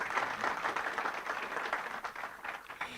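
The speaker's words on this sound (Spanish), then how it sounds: "El director Robles, un aplauso, por favor." Applause from a conference audience welcoming a director at a national meeting of agroecological producers, a dense, steady patter of many hands filling the room for about three seconds, moderately distant.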